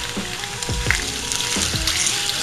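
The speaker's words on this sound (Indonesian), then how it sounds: "Jadi nggak usah dibumbuin lagi, kita tinggal goreng aja." Sliced chicken already seasoned with pesto fries in a pan, a steady loud sizzle with soft stirring clicks and scrapes now and then.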